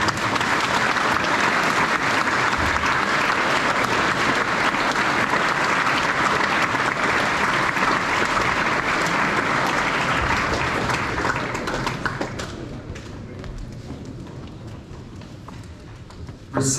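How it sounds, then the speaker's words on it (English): A high school assembly audience in New Zealand applauds students receiving award pins, with loud, dense clapping sustained for about twelve seconds before it thins to scattered claps and fades. "Let's give these people a round of applause."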